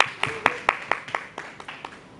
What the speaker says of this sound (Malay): berikan tepukan sekali lagi